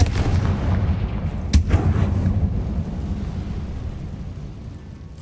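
A Confringo explosion spell goes off in Hogwarts Legacy with a sharp, loud blast and a rumbling decay over several seconds, with no talk.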